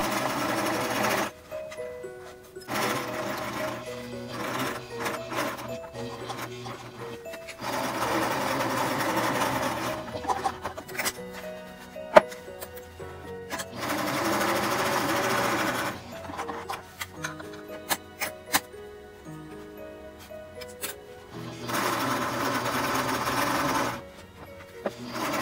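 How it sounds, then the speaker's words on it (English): A sewing machine runs in repeated bursts of steady stitching with short pauses between, sewing solid around all four sides of a face mask made from a pillowcase, with no talking. "You just sew solid all around 4 sides."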